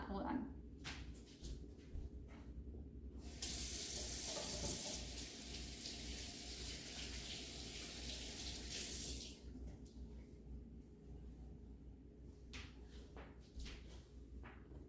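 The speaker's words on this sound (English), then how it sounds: "I am going to wash my hands now really super fast" Kitchen tap running while hands are washed during dinner prep: a steady gush of water starts, holds for several seconds, then stops, with soft clatter and a voice talking around it.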